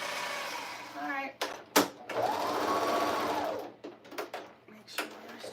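A home sewing machine runs in steady whirring bursts while stitching along a quilt band, close up, with clicks and handling noises between runs and a voice talking at moments.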